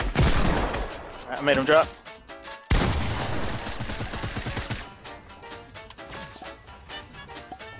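Gunfire in the video game Fortnite, bursts of rapid shots and single cracks in a busy battle, with players talking over the action.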